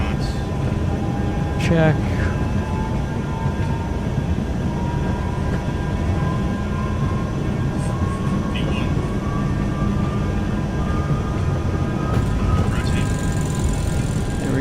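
A Dassault Falcon 50 jet in Microsoft Flight Simulator 2024 makes its takeoff roll with a steady, loud engine roar and a slowly rising whine, while a voice talks over it.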